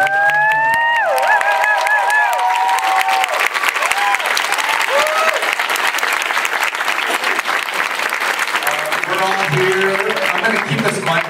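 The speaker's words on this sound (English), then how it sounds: "give a huge round of applause" A large convention audience at a drag-culture panel breaks into a long, loud, sustained round of applause, with whoops and cheers rising over it early on.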